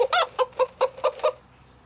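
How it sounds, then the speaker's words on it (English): A chicken clucks in a quick rhythmic series of about six short, clear clucks close up, then falls silent. No voices are heard. "Chicken."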